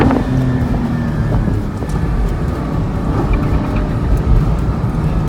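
A Porsche GT4 is pushed hard around an autocross course at Sonoma Raceway, heard from inside the car. A loud, steady engine drone comes through with wind buffeting, and no one talks.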